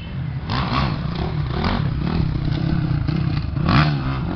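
Off-road motorcycle engine revving steadily, with throttle surges rising and falling, a continuous loud mechanical drone close by.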